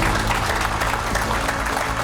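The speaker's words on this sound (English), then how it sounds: "A round of applause to him, please" Dense, continuous audience applause for a contestant at a budget contest grand final, a loud steady wash of many hands clapping throughout.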